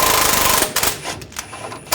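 Metal strikes ring out as a punch is hammered to drive a front lower control arm part free from the strut on a 2011-2018 Ram 1500, a rattling burst followed by several sharp separate hits.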